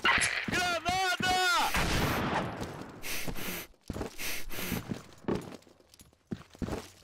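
A grenade blast and bursts of gunfire in the video game Combat Arms, with loud sharp impacts and rapid shots early on, then scattered quieter hits and clatter as a player speaks over them.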